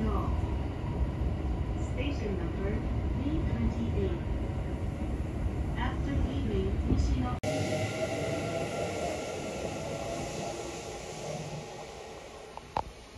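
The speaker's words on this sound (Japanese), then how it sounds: "近鉄郡山駅から電車に乗り、2つ先の西の京駅に向かいます。" Continuous interior rumble of a moving Kintetsu train between Kintetsu-Koriyama and Nishinokyo in Nara, with rhythmic rattling and a rising mechanical whine in the second half, no talking.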